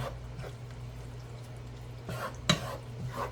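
Enchilada ingredients stirred in a pan, with a faint sizzle beneath a few soft scraping strokes and one sharper clink of the utensil against the pan.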